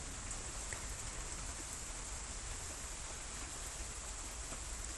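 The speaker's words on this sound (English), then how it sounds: "It's coming down now, isn't it, the rain?" Steady rain falls in a continuous broadband hiss of drops on a surface, unbroken and even throughout with no voices.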